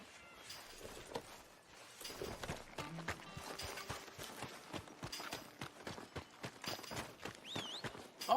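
Horse hooves clip-clop in Red Dead Redemption 2, a run of moderately quiet, irregular thuds close by with faint background game sounds.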